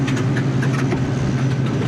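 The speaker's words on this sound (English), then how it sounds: "Why is the engine doing that?" An airplane engine runs roughly in flight, a steady droning hum with uneven sputtering pulses, continuous and fairly loud with no voices.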